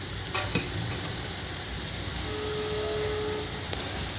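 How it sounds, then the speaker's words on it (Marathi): Black masala tipped into vegetables frying in a pan and stirred, a faint steady sizzle with a couple of quick scraping clinks near the start, no voices. "हे बघा आता हे काळा मसाला टाकला."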